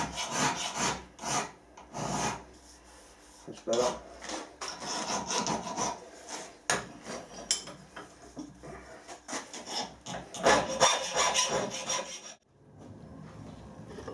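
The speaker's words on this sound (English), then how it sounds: "Just derag these edges as well." A stainless steel workpiece has its edges deburred by hand with a file, giving repeated rasping strokes in an uneven rhythm, close and moderately loud, with someone briefly speaking near the end.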